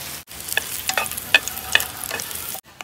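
Sliced sausages fry in a pan with a steady crackling sizzle, broken by a few sharp stirring clinks of a utensil against the pan.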